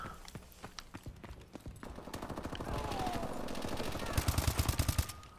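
Rapid bursts of close automatic gunfire crackle in Call of Duty: Advanced Warfare co-op play on PS4, with sharp repeated shots that thicken into a dense volley near the end.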